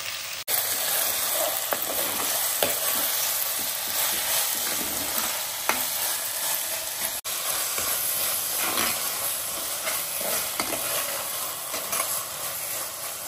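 Chopped tomatoes and onions with curry leaves sauté in a pan for a chicken burji. A continuous near sizzle and hiss plays alone, broken by occasional soft stirring scrapes.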